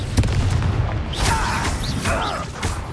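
A Confringo blasting spell bursts in Hogwarts Legacy, a heavy booming impact with a rumbling tail, followed by lighter crackling magical whooshes.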